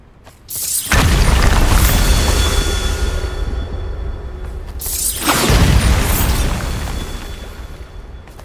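The Bombarda spell goes off twice in Hogwarts Legacy, each time a sudden loud boom that settles into a long, rumbling crackle before fading.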